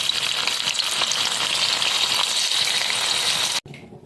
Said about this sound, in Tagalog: Sinalang ko na po itong tokwa. Piprito ko po.